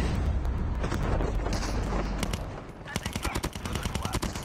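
Gunfire in the mobile game Call of Duty Mobile: a dense, loud stream of shots gives way to rapid, evenly spaced bursts, close and punchy throughout.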